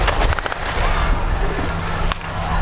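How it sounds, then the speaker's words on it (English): Artillery fire at a Second World War land battle reenactment at The Victory Show, heard as a string of sharp blasts and crackling bursts over a rumbling background, with a commentator talking throughout. "the Allied artillery are finding the range here to keep the Germans' heads down"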